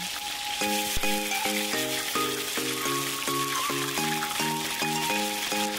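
Chicken with pandan and curry leaves, shallots and green chilies sizzles steadily in hot oil for Aceh-style ayam tangkap, a continuous crackling hiss beneath a light, rhythmic musical backing.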